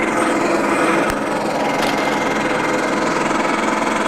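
An Allett C27 Evolution reel mower runs across a golf-course-style lawn, its small engine holding a steady, loud, whirring drone throughout with a brief click partway through.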